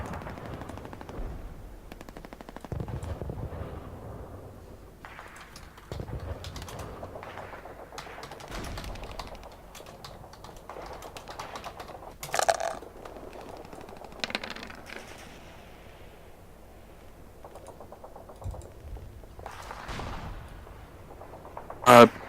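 Gunfire sound effects play during a tabletop role-playing game: scattered bursts of rapid machine-gun fire and single shots, some sharp and loud, separated by quieter gaps with occasional faint voices.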